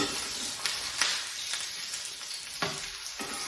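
Salmon cakes frying in a pan as they are flipped, a continuous close sizzle with a few soft knocks from the turning utensil.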